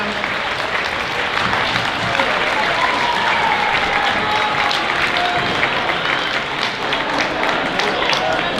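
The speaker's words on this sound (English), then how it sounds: "I want to hear a huge round of applause for the freshman teachers." A school assembly audience at Winslow High School applauds the freshman teachers, a loud, dense wash of clapping and crowd noise that holds steady for several seconds with scattered cheers mixed in.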